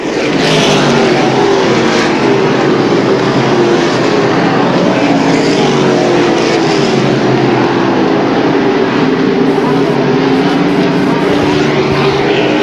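Race cars roar together around an oval track at the Airborne event, a loud, continuous engine drone with shifting pitch as the pack runs in sequence, heard up close without pause.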